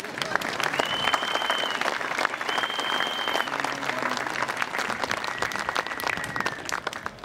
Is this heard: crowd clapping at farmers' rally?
yes